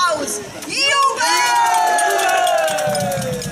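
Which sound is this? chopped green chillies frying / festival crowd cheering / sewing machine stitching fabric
festival crowd cheering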